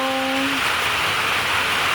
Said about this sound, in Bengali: প্রচণ্ড হারে বৃষ্টি হচ্ছে, একদম দেখতে পাচ্ছ, আওয়াজটাও শোনা যাচ্ছে